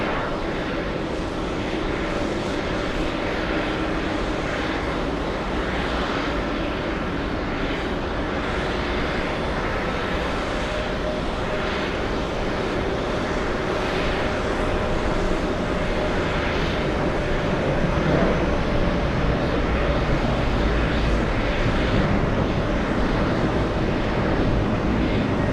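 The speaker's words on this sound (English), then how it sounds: "That's an Airbus A330 heading to runway 13 left for takeoff." Airbus A330 airliner at JFK airport heading to runway 13 left for takeoff, a steady broad jet engine roar filling the air throughout, loud and continuous with a slight swell near the end.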